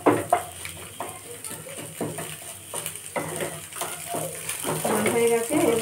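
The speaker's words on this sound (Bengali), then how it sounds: "এইভাবে ডিমটাকে ভাজি করে নেবো ছোট ছোট করে।" An egg fried and stirred into small pieces in a pan, with repeated scraping and clinking of a utensil against metal over a soft sizzle, while someone talks throughout.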